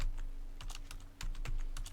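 Someone types on a computer keyboard while entering code for a web form label, producing quick, close, crisp key clicks in uneven bursts.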